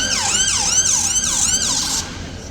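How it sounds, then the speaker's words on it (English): A wailing emergency siren sweeps up and down repeatedly, loud and steady over road noise, then cuts off near the end. "Sorry for the sirens, guys,"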